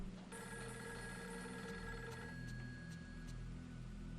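Telephone bell in the Fatal Frame III game ringing steadily and insistently in repeated bursts, loud and close with a droning background, no talk.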